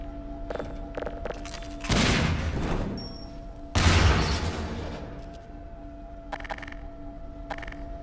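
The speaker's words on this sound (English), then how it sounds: "There's a lot of grenades in this box, so I think I'm going to blow some more people up." Two heavy grenade blasts boom a couple of seconds apart in the VR game Half-Life 2, each with a rumbling tail, among faint clicks and background game noise.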